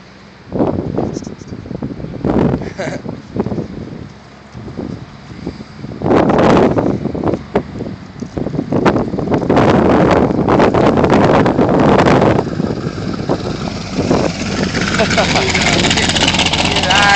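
Wind gusting outdoors around a T-bucket hot rod, rumbling and buffeting loudly across the mic in waves, with voices talking over it.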